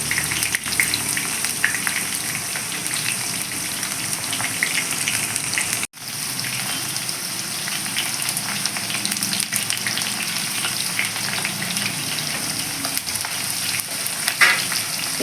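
Bitter gourd pieces fry in a pan of oil with a steady, dense sizzle and crackle lasting throughout, close and fairly loud, broken only by a brief dip near the middle.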